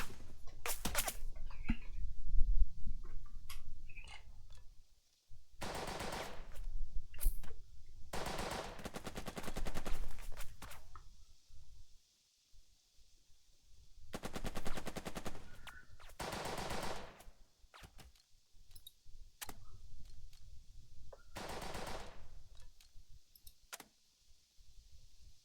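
Machine gun fire from Burden of Command, a World War II tactics game, sounds in several separate rattling bursts, some long and some short, with quiet gaps and faint background ambience between them.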